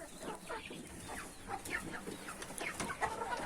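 Chickens cluck and chatter in a smoky coop, several birds close by making short overlapping calls throughout at moderate loudness.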